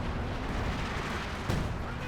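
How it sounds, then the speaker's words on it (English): Artillery shells burst in a strategy war game, a dense, continuous rumble of distant impacts with one sharper blast standing out near the end. "Lots of artillery coming in,"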